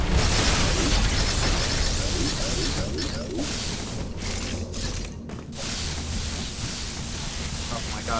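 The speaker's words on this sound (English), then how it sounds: "Power bomb" A power bomb detonating in Metroid Dread, a loud, sustained broadband blast roaring across the whole clip with a few brief dips, voices faintly under it.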